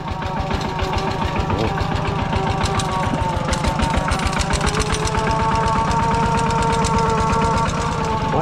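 A tractor engine runs nearby with a steady, rhythmic chugging pulse and mechanical rattle, holding an even idle-like beat throughout with no voices.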